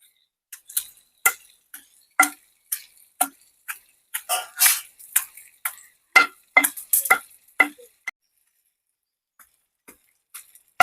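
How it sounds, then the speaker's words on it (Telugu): Ripe red chillies pounded with tamarind and salt in a mortar, a steady series of sharp thuds repeating about every half second, close and fairly loud, then slowing to a few isolated knocks near the end. "ఇప్పుడు మనం పండు మిరపకాయలు వేసుకుని దంచుకుందాం"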